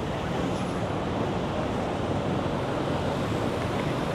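A steady roar of queued cars fills the street at the busy Bukit Bintang entrance in Kuala Lumpur, a dense unbroken wash of engine and road noise with wind buffeting, no voices heard.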